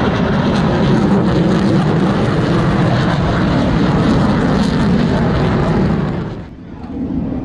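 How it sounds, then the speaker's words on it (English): An F-16 fighter jet flies past at an air show in Atlantic City, a loud, steady, broadband jet roar that fills the scene before dropping away abruptly near the end. "Here we have an F-16 flyby."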